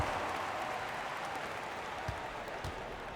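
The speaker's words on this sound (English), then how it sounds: "Give them a round of applause" Crowd applause in NBA 2K23 during a Cavaliers versus 76ers basketball game, a soft, even wash of clapping that holds steady throughout at low level.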